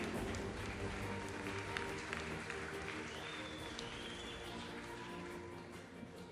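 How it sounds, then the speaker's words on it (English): An audience applauds two fighters after an amateur MMA bout, a loose crowd clatter of clapping and cheering heard from some distance, fairly faint and steady, easing off gradually. "Round of applause for these two guys."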